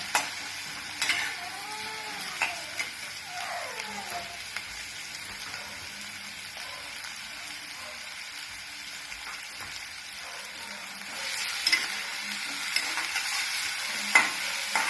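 Onions, green chilies, garlic and curry leaves sauté in a pan for kadala curry, giving a steady soft sizzle with occasional spatula scrapes and clinks, no voices.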